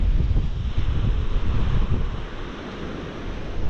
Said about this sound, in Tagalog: Biglang lumakas ang hangin.